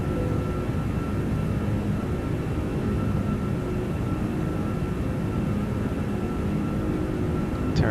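Jet engines of a Toliss A340-600 in a flight simulator roar steadily at full power, a broad continuous rumble with no break, holding loud and even throughout.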